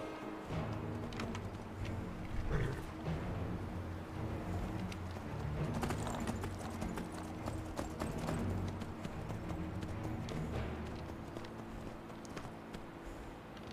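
Steady rhythmic hoofbeats of a horse in Skyrim Special Edition clop along at a trot under a continuous hum, with faint bird calls and no clear speech.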